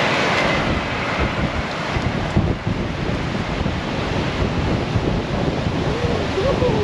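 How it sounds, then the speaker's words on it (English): Strong wind buffets the microphone on a beach near Port Macquarie's Plomer Track, with a loud, steady roar of surf underneath and no talking. "Super windy."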